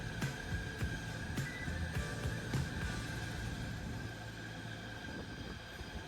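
A train rumbles steadily past very close overhead at a station, giving a continuous mechanical roar with a faint tonal whine and scattered clanks and rail clicks.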